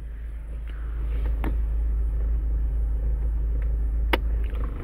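Car engine running steadily with its fuel pump switched on, burning CNG and liquid fuel together, a continuous close low rumble that swells slightly after the first second, with a couple of brief clicks.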